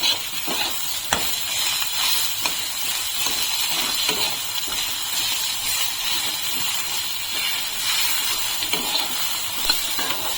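Onion and chopped green chilli fry in a pan for a Bengali bottle gourd and mung dal dish, giving a steady, close sizzling hiss with a few faint scrapes and no talking.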